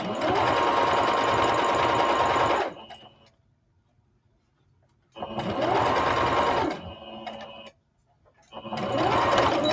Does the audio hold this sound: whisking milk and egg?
no